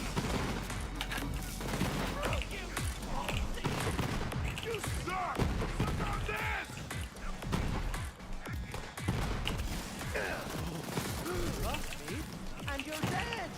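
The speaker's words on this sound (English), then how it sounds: "This is 2 multiple projectile rocket launchers." Two multiple-projectile rocket launchers fire in the video game Borderlands 3, giving rapid, dense bursts of explosive shots and thuds. The barrage runs continuously, mixed with game sound effects and talking.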